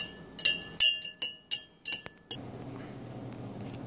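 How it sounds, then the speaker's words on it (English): A spoon stirs honey into a glass of cinnamon and lemon drink, ringing out about seven sharp, close glassy clinks in an uneven rhythm, followed by a softer, quieter swirl. "So you can put a little honey in here. You see that, guys? And just stir it in like that."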